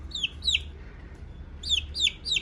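A baby chick peeps in high, sharp chirps, two at first and then three more in quick succession, close by over a low background rumble.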